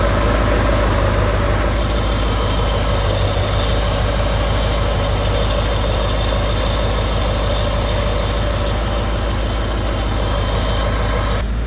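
A 1994 Corvette engine idles steadily while its coolant is burped after a coolant loss, a constant low rumble with even vibration, loud and close with no talking.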